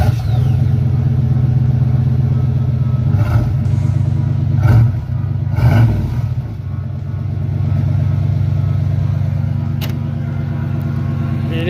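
A 1995 Chevy G20 van engine runs after a cold start in cold weather, holding a loud, steady low rumble with a few brief throttle blips partway through before it settles back to a constant idle.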